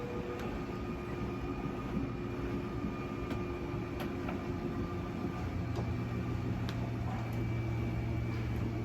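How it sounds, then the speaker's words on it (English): A steady low mechanical drone of an RV slide-out electric motor running on a 2018 Crusader 26RE, with a few faint clicks as the motors reach their stall. "Once that slide is fully extended, you'll hear some clicks from the motors"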